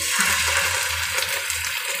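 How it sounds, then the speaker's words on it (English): Mac and cheese fries in a pan with a continuous hissing sizzle over a low bubbling rumble, steady and fairly close, while sauce is added. "After a few minutes of frying, we add the Del Monte ketchup"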